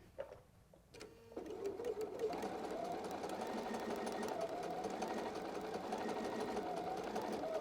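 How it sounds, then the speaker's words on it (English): A sewing machine stitches fabric along a bias edge while a quilted wedge is pieced. After a brief hesitant start, its motor settles into a steady, fast, even whirring hum that runs uninterrupted to the end. "Now I'm just going to stitch this down very carefully."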